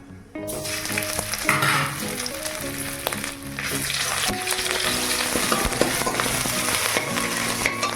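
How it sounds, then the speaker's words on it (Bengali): Cumin seeds, then ginger paste, fry in hot oil in a pan with a loud, continuous close sizzle and crackle, broken by clinks and stirring scrapes throughout. "হালকা ভাজা হয়ে গেলে দিলাম এক চামচ গোটা সাজিরে ফোড়ং হালকা ভাজা হয়ে গেলে দিলাম এক চামচ আদা বাটা"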